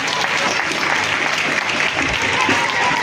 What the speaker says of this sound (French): Donc on applaudit.